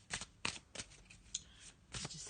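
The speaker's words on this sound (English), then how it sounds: "Just have a little shuffle and see what we've got in the tarot for today." Tarot cards are shuffled in several quick riffling bursts with short pauses between, close and crisp, with no talking.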